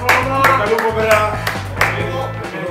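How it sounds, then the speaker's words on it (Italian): Clapping in a farewell to a departing person, a few loose rounds of hand claps rising and fading while voices talk over them. "Un applauso a Coma, ultimo saluto."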